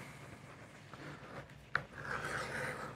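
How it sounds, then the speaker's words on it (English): Edge beveler shaving along the edge of a leather knife sheath strap, a quiet close scraping rub with one small sharp tick partway through, no talking. "bevel all around this strap"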